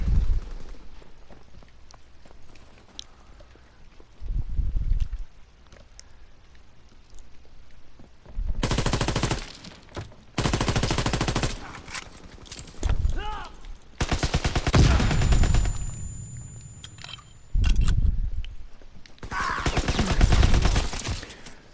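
Call of Duty WWII gameplay with bursts of rifle and machine-gun fire, repeated loud volleys separated by quieter stretches, with faint talk in places.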